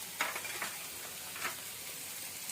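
Beans, zucchini and cauliflower stalks with ginger stir-frying in a pan, a steady close sizzle with occasional scraping stirs, no talking.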